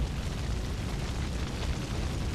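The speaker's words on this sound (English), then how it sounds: "So yeah, we got a lovely fire going here." A fire burns in The First Templar with a steady, dense roar and crackle that stays constant and fairly loud, with no pauses.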